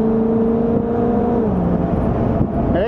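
A 1957 Ford Thunderbird drives and accelerates, its engine note rising steadily and then dropping as it shifts, loud and close with no talking.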